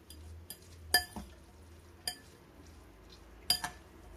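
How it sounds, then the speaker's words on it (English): A fork mixing pepper into food in a bowl, giving a few isolated light metallic clinks and taps spaced unevenly, close and fairly quiet with nobody talking. "you take a fork and you mix it in"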